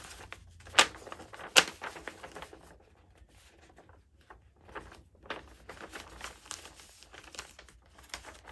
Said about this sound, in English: I'm going to fold the pattern back at that 2-inch mark.